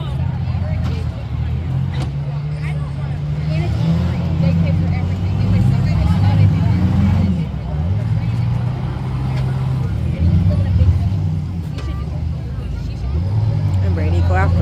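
A demolition derby car revs its engine and accelerates at the Allen County Fair, loud low engine drone rising and falling as other cars rumble, with a crowd murmuring in the background.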